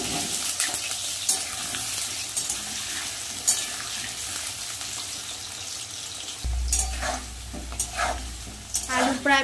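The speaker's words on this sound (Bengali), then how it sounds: "সবার আগে আমি আলুটা ভেজে নেব" Potatoes fry in hot mustard oil in a wok, giving a steady close sizzle with scraping stirs and a few brief clatters, louder toward the end.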